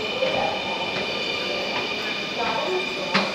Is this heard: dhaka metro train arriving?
yes